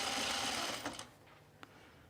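A sewing machine runs steadily for about a second while stitching gathers on a camp shirt, then stops, leaving a faint hum and one small click.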